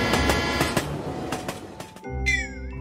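Rolling train with rhythmic rail clatter and broadband rumble, a brief quieter gap, then a lighter passage where a rising and falling whine appears, moderately loud and close, with no voices.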